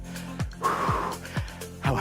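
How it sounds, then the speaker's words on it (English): Heavy, labored breathing from a rider during a spin class endurance workout, several loud gasping inhales and exhales in a steady rhythm, close to the microphone. "how heavily I'm breathing."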